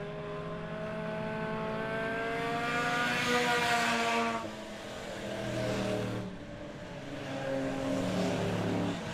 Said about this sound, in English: Coming around lead lap number 2 here, Willie Gale on the 7 machine.